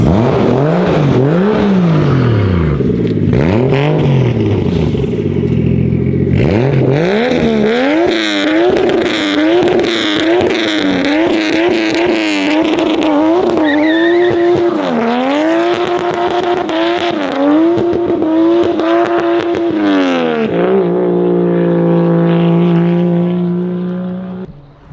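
A loud, modified JZX100 Chaser engine with Japanese mods revs repeatedly, with rapid rising and falling throttle blips before settling into a deep, rumbling idle.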